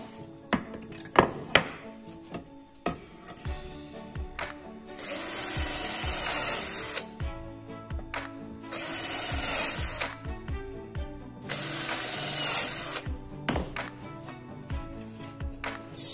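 A power drill drives screws into the edge of eucalyptus MDF in a workshop, with whining bursts of the motor spinning up and biting at intervals between quieter handling knocks and clatter.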